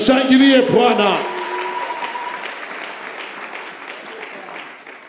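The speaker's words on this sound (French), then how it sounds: "Acclamons le Seigneur." A church congregation bursts into applause and acclamation at a sermon, opening under a raised voice, then a broad wash of clapping and cheering that gradually fades.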